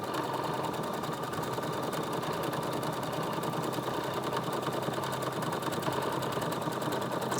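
A sewing machine runs steadily, stitching an appliqué mouse body onto quilt fabric with a fast, even whir at constant loudness and no talk.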